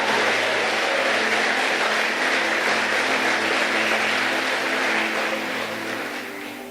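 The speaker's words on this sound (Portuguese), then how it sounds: "Dê o seu melhor aplauso a Ele." A church congregation applauds steadily during a worship service, a broad wash of clapping and crowd noise that holds for several seconds before easing slightly toward the end.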